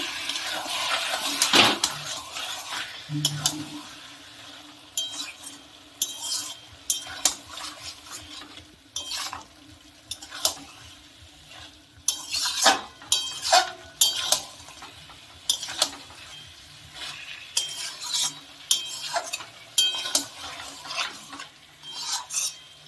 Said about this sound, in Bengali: একদম লো ফ্লেমে গ্যাসটা আছে। কি সুন্দর আস্তে আস্তে জল ছেড়ে দিচ্ছে।